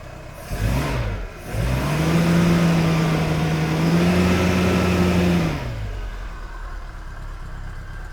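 A Reliant Fox engine starts and runs steadily at a loud, close idle with a slight rev, then drops to a quieter idle; no talking.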